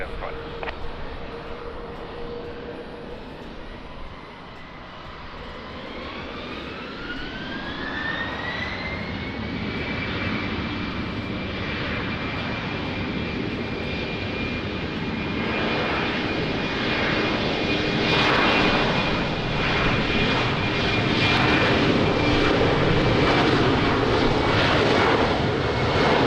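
Airliner taking off from runway 20 at Lisbon Airport in the rain, a loud jet engine roar that builds steadily with a rising whine that climbs and then holds, heard up close throughout.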